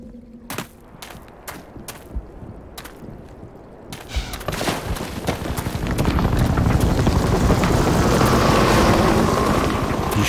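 Gunfire and a helicopter in the game Black Mesa: a few sharp shots ring out over quiet, then a dense, loud roar of chopping rotor noise and rapid gunfire builds and holds, with no speech.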